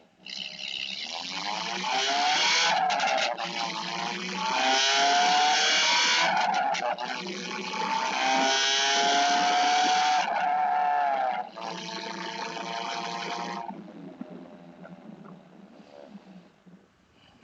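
A Honda engine fitted with a popcorn mod revs up and down in sustained, loud pulls, with crackling pops and bangs on deceleration, before cutting off and fading into quieter idle near the end.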